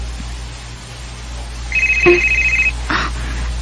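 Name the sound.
mobile phone ringing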